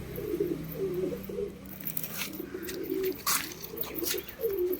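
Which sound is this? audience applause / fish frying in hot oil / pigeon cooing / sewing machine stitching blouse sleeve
pigeon cooing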